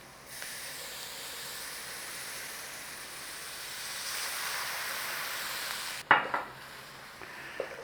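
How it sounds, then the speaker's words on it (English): Sausages simmer in wine in a pan, giving a steady soft hiss and bubbling that swells gradually, then a sharp metallic clatter of a utensil against the pan near the end. "We're just going to let that simmer for a little minute."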